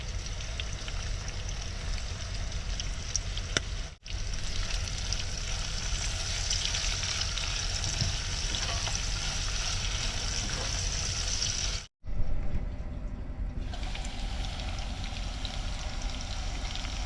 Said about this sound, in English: Let that bacon get a little more crispier.